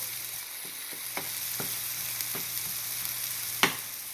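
Sausage sizzles steadily in a pan as salt, pepper and plain flour go in for gravy, with a constant close frying hiss broken by a few soft clicks and one sharp tap near the end.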